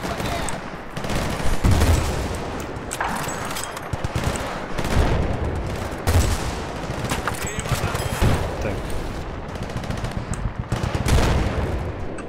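Rapid automatic gunfire and scattered shots in the video game Battlefield 2, with dense bursts crackling continuously alongside occasional heavier booms while players talk over the combat.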